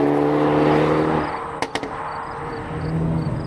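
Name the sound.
2024 Hyundai Elantra N car driving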